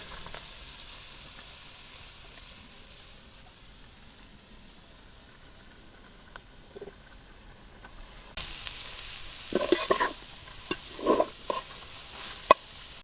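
Leafy dambu greens dropped into a pan of frying salted fish spiced with turmeric and chili powder in a village kitchen, a faint steady sizzle that grows busier with sharp crackles and stirring scrapes toward the end.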